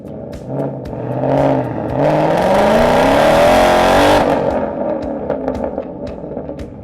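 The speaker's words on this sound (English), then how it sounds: "The H-Pipe will give you a little bit of a deeper sound, a little bit more of a muscle car sound." A Ford Mustang S550 fitted with an H-pipe exhaust revs loudly and close by, its deep, throaty note climbing steadily in pitch and then easing back down, with no voices.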